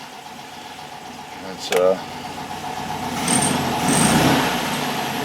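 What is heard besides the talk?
1965 VW Beetle engine running and revving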